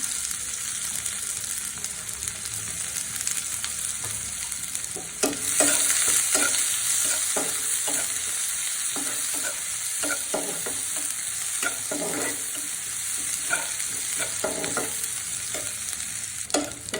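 Garlic and onion fry in a pan for a sweet pumpkin dish, a constant close sizzle broken by repeated clicking stirs and scrapes.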